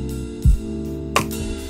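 Ride cymbal samples from a drum rack in a beat-making session: a bright metallic hit rings out and decays over a sustained musical backing, following a deep low thump.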